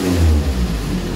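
Nissan 240SX engine revving past 2500 rpm, a loud, close, sustained low growl that swells briefly and then holds steady.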